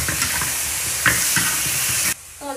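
Pig trotters are stirred and fried in hot oil in a wok and give off a loud, steady sizzle broken by scraping stirs. The noise cuts out abruptly near the end and a fainter hiss follows.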